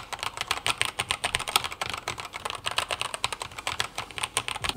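Fingers type on a mechanical keyboard fitted with TTC Quicksilver linear switches, which need about 45 grams of pressure: a fast, irregular run of soft clacky keystrokes, close and fairly quiet, with no talking.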